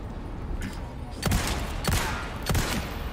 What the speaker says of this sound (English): I kind of shot him in the ass